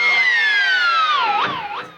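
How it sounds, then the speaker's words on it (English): Electric guitar dive harmonic worked with the tremolo bar in a solo: a loud squealing high pitch sweeps steadily downward, then bends back up in two quick wobbles before fading. "Starts off with a big dive harmonic."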